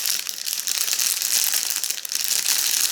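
A small gift packet of cosmetic testers is opened up close, with continuous crinkling and crumpling of thin plastic wrapping and brief tearing sounds throughout.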